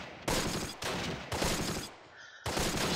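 Loud crackling gunfire in the World War II strategy game Close Combat: The Longest Day, repeated bursts of rifle and machine-gun shots in quick succession with brief gaps between volleys.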